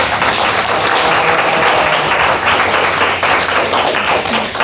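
Sustained audience applause in a hall at the close of a public lecture on the Bu-Ma democratic uprising, dense steady clapping from many hands throughout with no speech.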